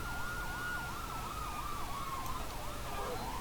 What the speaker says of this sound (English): Turn my siren off as well.